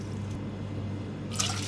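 Water, three and a half cups, poured into a pan as the base for suji halwa syrup: a faint, steady liquid trickle and drip close by, with a brief brighter splash near the end and no talking.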